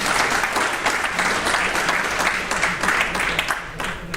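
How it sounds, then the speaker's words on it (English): A crowd gives a big round of applause for the volunteers who run a radio station, dense sustained clapping filling the whole stretch at steady loudness. "give a really big round of applause to the volunteers that runs this radio station"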